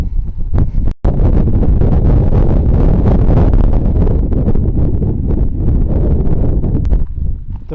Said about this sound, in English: The wind today is brutal.